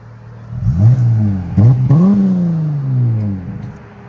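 A 2018 Dodge Charger GT with a 3.6L V6 and Vibrant bottle resonators revs up several times, close and loud. Its rising exhaust note settles into a long falling drone as the revs drop.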